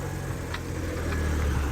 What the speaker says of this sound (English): That sounds almost like a drive shaft, but like a really bad drive shaft.